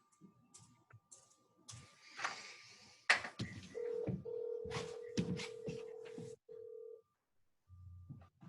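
Telephone keypad dialing tones at a budget meeting, a series of short beeps followed by a long steady tone, with people talking around them.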